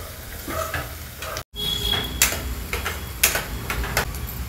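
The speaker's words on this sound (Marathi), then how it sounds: "चांगला गोल्डन ब्राऊन करायचा आहे आपल्याला कांदा" Onions with salt fry in a pan toward golden brown for paneer bhurji, giving a close steady sizzle with ticking spatula scrapes, briefly cut off near the start, and no talking.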